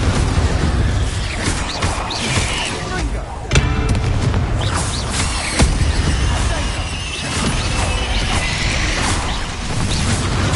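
Confringo blasting spell explosions in the Hogwarts Legacy video game, a dense, loud run of booms, crashes and whooshes that keeps going with a couple of sharper hits, with game speech mixed in.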